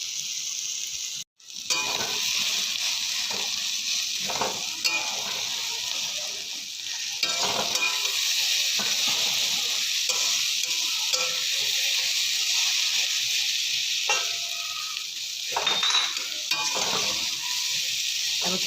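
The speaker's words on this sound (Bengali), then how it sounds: "এবার ডিম ভুজিয়ার ডিমটা এর ভিতরে দিয়ে নাড়াচাড়া করে নামিয়ে দেবো" Ridge gourd frying in a pan with potato, onion, garlic and dry chilli as egg is stirred in, a loud continuous close sizzle with scraping stirs that pauses once for a moment near the start.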